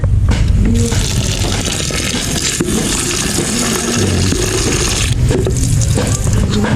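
Collected rainwater pours steadily and loudly into a container in San Vicente, Palawan, a continuous gushing splash with faint scraping and background noise.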